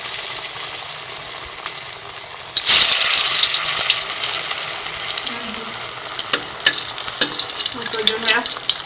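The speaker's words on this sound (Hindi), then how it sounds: "मैंने ऑयल को पहले से ही गर्म कर लिया था। अब हम इसमें जो है अपने कटलेट्स फ्राई कर लेंगे।" Potato and peas cutlets drop into hot oil and burst into a loud, steady sizzle after a quieter start, with bubbling and crackling continuing close by.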